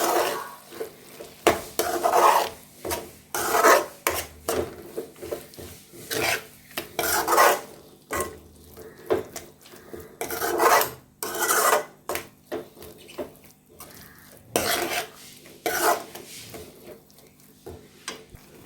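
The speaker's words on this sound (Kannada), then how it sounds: "ಇವಾಗ ಚೆನ್ನಾಗಿ ಮಿಕ್ಸ್ ಮಾಡ್ತಾಯಿದ್ದೀನಿ" Okra curry with masala and a little water being stirred in a pot, a spoon scraping and rasping against the metal in repeated strokes with short pauses between them, close and fairly loud with no talk.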